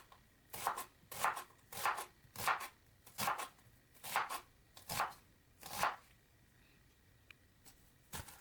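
A knife cuts onion into small slices on a board, with fingers held in a claw grip: nine or ten crisp, evenly spaced chops close up, then a pause and a final cut, with no talk.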